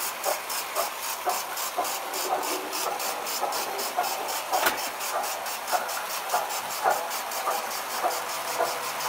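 A homemade model engine built from two 835s runs steadily with rapid, even hissing puffs like a small steam engine, a close, continuous chuffing rhythm with a faint mechanical clatter and no talk.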